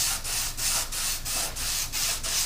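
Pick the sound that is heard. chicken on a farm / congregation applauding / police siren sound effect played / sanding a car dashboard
sanding a car dashboard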